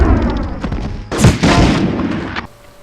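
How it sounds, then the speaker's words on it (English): A German soldier's helmet shot off in the PS1 game Medal of Honor gives a hollow metallic donk at about 1.2 seconds, set against gunfire and game ambience. "the amusing donk noise that is made when you shoot off the helmets"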